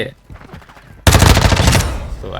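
A Lockwood 300 double-barrel shotgun fires in Call of Duty Warzone 2.0 DMZ mode: one loud, booming blast with a lingering tail that cuts through quieter game sounds.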